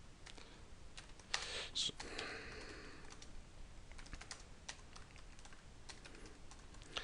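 Keystrokes on a computer keyboard while a note is typed, a steady run of light clicks with a brief louder burst near the start, close and clear over a quiet room, with a short spoken word at the outset.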